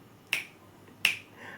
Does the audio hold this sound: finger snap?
yes